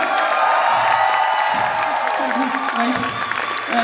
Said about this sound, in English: round of applause for the magician.